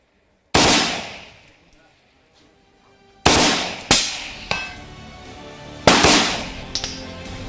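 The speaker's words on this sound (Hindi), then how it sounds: "फुल ऑटो में डाल दिया, यानी ये एक बार फायर ट्रिगर दाबने के बाद ये लगातार फायर करेगी।" An AK-203 rifle set to full automatic fires several loud, sharp reports spaced a few seconds apart, each cracking close by and trailing off in a ringing echo, with no talking.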